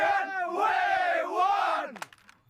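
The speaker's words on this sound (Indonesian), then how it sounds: "Bersorak-sorak." A crowd of villagers roars and cheers together in victory, a loud sustained mass shout that swells and then breaks off abruptly, followed by a few scattered sharp noises.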